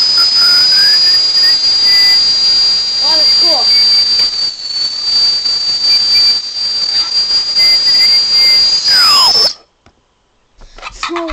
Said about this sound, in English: our balloon power hover jet